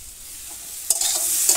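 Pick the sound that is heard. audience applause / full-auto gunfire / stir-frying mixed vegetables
stir-frying mixed vegetables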